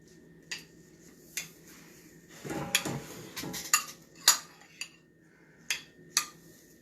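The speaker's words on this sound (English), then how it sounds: "I'm going to just stir all of that together." A spoon stirring spiralized vegetables and other ingredients in a dish, with a series of sharp metallic clinks and scrapes against the bowl, irregular and close, and a brief cluster of busier stirring in the middle.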